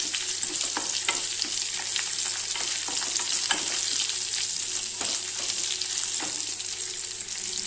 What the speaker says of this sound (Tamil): கருவேப்பிலை உங்கள் வீட்டில் இருந்தால் இப்படி நல்லா எண்ணெய்க்குள்ளே போடுங்க, நல்லா மொறுன்னு ஆயிரும்.